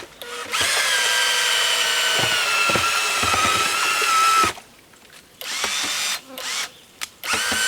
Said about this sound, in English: This is a paint mixer that I forged a bunch of years ago.